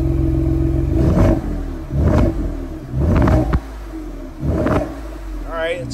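A Ford Bronco two-door on its factory exhaust gets four short throttle blips, each rev swelling and falling back to idle in an even rhythm, loud and close, with a brief voice at the end.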